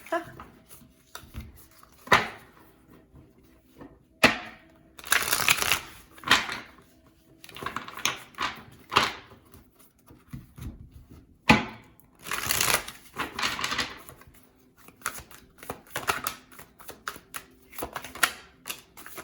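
Tarot cards are shuffled and riffled in repeated bursts of flapping and rustling, close by, with quiet gaps between rounds.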